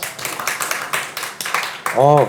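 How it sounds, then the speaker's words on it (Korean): A group of parents claps in steady, evenly spaced beats for a couple of seconds at a tutoring academy information session, then a voice begins speaking. "박수 소리가 좀 커갖고 좀 기분이 좋아지네요"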